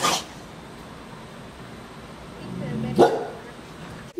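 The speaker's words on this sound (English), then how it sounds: "She's barking." A dog lets out a short bark at the start and another sharp bark near the end, with quiet room noise between.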